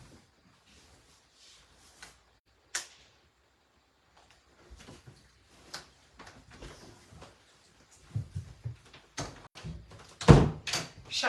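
A room door in a home craft session is pushed shut, a cluster of soft knocks and rustles building to a heavier thump near the end, with no voices.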